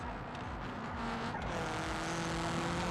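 Race car engines in BeamNG drone and whine steadily behind, a close, continuous roar of several cars with rising pitch and faint tire noise.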